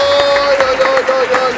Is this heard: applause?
yes